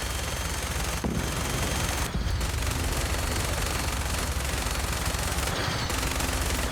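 Rapid, loud automatic gunfire in Fallout 4, a dense continuous stream of shots with a couple of brief gaps, close and unbroken throughout.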